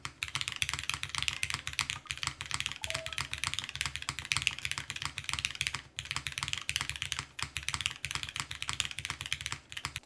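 Steady, fast typing on a Rin60 60% mechanical keyboard fitted with a GMK spacebar, a continuous run of crisp key clacks with deeper spacebar thocks, close and alone without talk.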